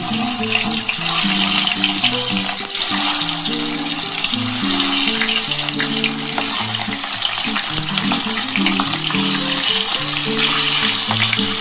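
Eggs lightly frying in hot oil, a loud continuous close sizzle and crackle, with a low tonal hum underneath throughout.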